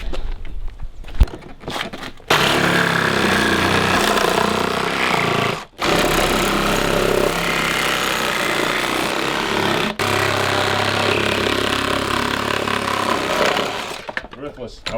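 A power tool grinds and cuts steadily through a Mazda RX8's air mass meter chamber during a drift car build, a loud continuous rasp that runs almost the whole time with one brief pause midway.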